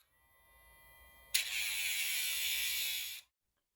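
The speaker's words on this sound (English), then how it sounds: "I use a nail trimmer sander on Fairy's nails, which you just push onto the nail and it grinds" A rotating nail grinder sands a greyhound's nails, starting abruptly with a loud, steady high-pitched buzz that holds for about two seconds and then cuts off, after a quieter whir.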